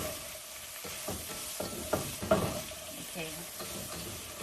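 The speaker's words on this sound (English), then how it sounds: "just mix it around a little bit some more" Food seasoned with ground white pepper is stirred as it sizzles in a pan, with steady frying hiss and several scraping stir strokes; a voice speaks briefly.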